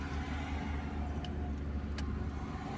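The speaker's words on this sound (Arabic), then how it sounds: "دايما النغمة تاع لاكسيليغاتيغ رانا نسمعو فيها النغمة تاعها" A car engine hums and accelerates steadily during a driving lesson, a fairly quiet continuous interior drone with no talk.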